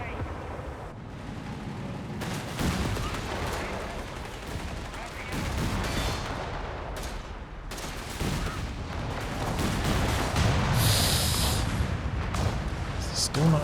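Artillery counter-barrage in the strategy game Company of Heroes 3, with repeated shell impacts and bursts at irregular intervals over a continuous battlefield rumble, moderately loud, with a voice talking over it.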